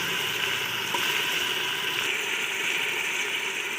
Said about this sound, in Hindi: व्यूअर्स अभी हम इसमें गोश्त डालेंगे।